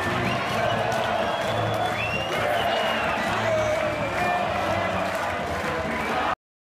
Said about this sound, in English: we'll throw a crowd cheering at the end of a nice victory of a sports match